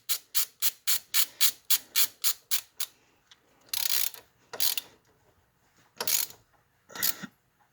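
A socket ratchet wrench clicks in a fast, even burst of about a dozen loud, close strokes while working on the front suspension of a 2002 Suzuki Vinson 500 ATV, followed by a few slower, scattered ratcheting bursts.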